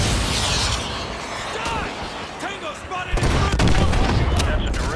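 Gunfire from the video game Call of Duty Modern Warfare 2, with dense bursts of shots and rattling fire that grow louder toward the end, with voices calling out amid the battle.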